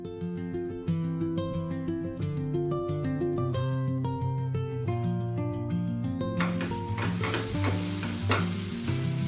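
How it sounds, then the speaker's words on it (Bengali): Beaten whole egg poured and stirred into eggplant bharta frying in a pan, a sizzling hiss rising suddenly partway through and continuing under steady background music. "একটা গোটা ডিম আমি ফেটিয়ে রেখেছিলাম, এটা আমি এর মধ্যে পুরোটা দিয়ে দিলাম।"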